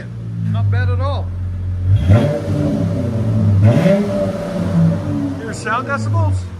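Deep exhaust burble from a 2019 Dodge Charger 3.6L V6 fitted with Dynomax Race Bullets, idling close by and revved hard two or three times in rising, falling sweeps, with people talking over parts of it.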